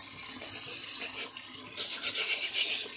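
Hands being washed with soap under a running tap at a sink, a steady close splashing hiss of water with rubbing, growing louder and fuller toward the end.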